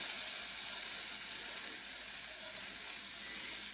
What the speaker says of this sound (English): I am going to heat this butter, put it on medium-high heat